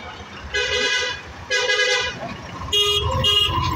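Car horns honk in a traffic jam on a narrow road, three loud toots in sequence, each a bright, held blast over a low rumble of idling vehicles.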